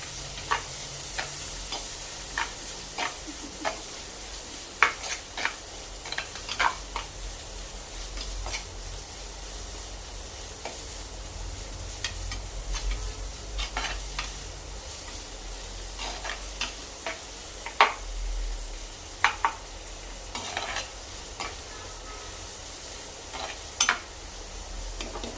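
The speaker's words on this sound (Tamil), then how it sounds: "அது நல்லா கோல்டு கலரில் வர வரைய வதக்கிக்கோங்க." Small shallots sautéing in a pan until golden for a quick chicken dish, a soft steady sizzle with scattered clicks and taps of stirring throughout, no voices.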